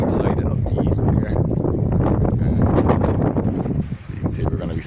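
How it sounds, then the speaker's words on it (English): Strong wind buffets the microphone out at the end of a harbour pier, a dense, steady roar that barely lets up through the whole stretch, with a short dip near the end. "it's pretty windy out on the end of the pier."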